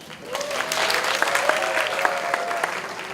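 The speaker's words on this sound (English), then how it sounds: "Give a round of applause to you guys." A university class applauds together at a campus event, steady clapping from many hands with a few cheers and voices mixed in, filling the room for about three seconds.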